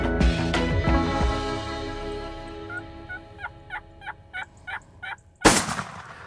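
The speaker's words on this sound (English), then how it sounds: "the other gobbler, he fires off, and he's not 150 yards to our left" A wild turkey gobbler gobbles loudly and close, then a series of rapid gobbling bursts follows at a regular pace before a sudden loud blast near the end.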